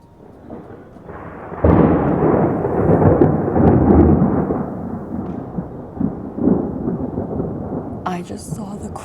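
Thunder from lightning in a mountain storm rolls in as a loud, close, sustained rumble. It lasts several seconds over steady rain, then eases off with a crackling tail.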